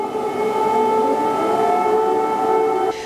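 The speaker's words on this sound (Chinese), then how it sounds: "周三，乌克兰首都基辅也响起空袭警报" An air raid siren wails over Kyiv, Ukraine, a steady sustained tone holding loud and unbroken for about three seconds with a faint background hum and no talking.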